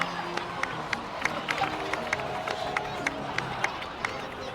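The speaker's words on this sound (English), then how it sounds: "please give another round of applause for them" A crowd in Genshin Impact applauds with scattered, crisp claps and a background murmur of cheering, steady and sustained throughout.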